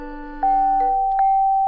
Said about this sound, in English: I scuttle over to the neighbor's house and ring the doorbell.